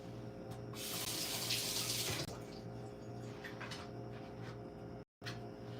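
A plate is washed under a running kitchen tap: a loud rush of water for about two seconds, then quieter splashing and trickling as the plate is rinsed, no talk.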